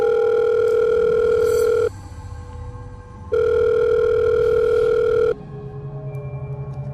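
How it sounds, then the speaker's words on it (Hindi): Mobile phone in a pocket sounding a loud, steady electronic ring tone in two long bursts separated by short pauses, with no talk over it. "उस वक्त तक जब तक उसकी पॉकेट में रखा फ़ोन नहीं बजा"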